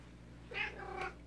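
A cat gives two short meows close by, the second slightly higher, over a quiet background hum.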